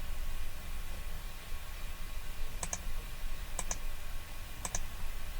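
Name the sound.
computer mouse clicking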